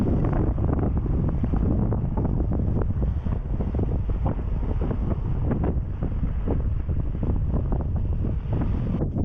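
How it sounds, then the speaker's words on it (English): Strong, steady wind buffets the microphone on a coastal walk along Cornwall's wild north coast, a loud continuous roar and rumble with gusting pulses and no speech. "It's quite windy"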